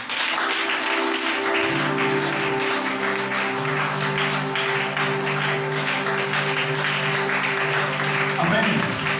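A church congregation applauding and acclaiming the Lord, sustained clapping blended with loud voices and a steady crowd roar throughout.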